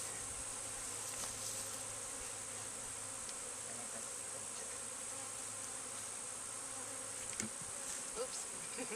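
A honeybee swarm buzzing during capture on a hillside, a dense, continuous hum of many bees close by, steady and unbroken throughout with faint outdoor noise.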